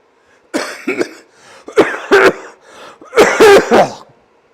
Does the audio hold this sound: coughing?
yes